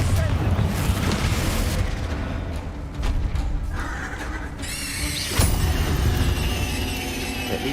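Confringo fire spell blasting in a Harry Potter video game, booming explosive bursts over rumbling game effects and music, with a sharp crackling flare partway through and a brighter burst near the end.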